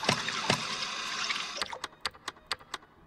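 Water pouring into a mixing bowl in the kitchen game Bakery Simulator, a steady broadband rush for about a second and a half that gives way to a series of sharp clicks.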